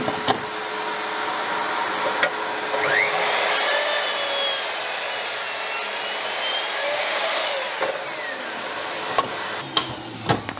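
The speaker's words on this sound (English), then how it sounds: "if I just run a cut on the miter saw now" A mitre saw slices through a piece of wood at an angle, a sustained buzzing cut of several seconds framed by short clicks and knocks before and after, heard up close with no talking.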